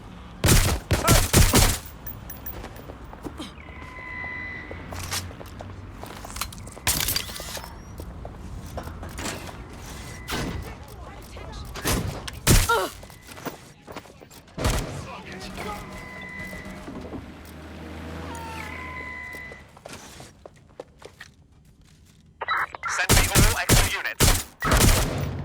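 Watch Dogs Legion gameplay gunfire: repeated sharp shots and rapid volleys crackle in bursts, heaviest at the start and end, with in-game voices shouting between them.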